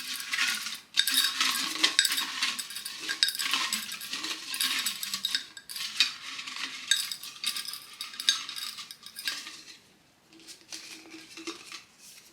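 Hands rummage through paper cards inside a jar, producing close, continuous clinking, tapping and rattling against the glass, with a short quieter pause near the end.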